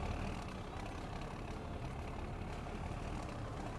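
A tractor engine in Farming Simulator 2015 drones with a steady, loud, low rumble that holds at an even level for the whole stretch, with no voices.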